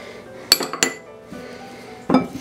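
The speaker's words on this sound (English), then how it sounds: "Let's mix this up a bit." Pineapple casserole ingredients with flour and sugar being stirred in a bowl, a few close clinks and scrapes of a utensil against the dish, three distinct knocks with quiet between.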